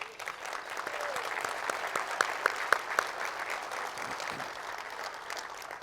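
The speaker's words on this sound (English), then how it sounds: "Let's have another round of applause for Howard." An audience applauds steadily at an annual meeting luncheon, a dense, even patter of many hands at moderate level with a few sharper claps standing out midway.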